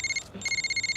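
An electronic phone ringtone chirping in a fast, evenly pulsing pattern with a short break, clear and steady in an indoor scene.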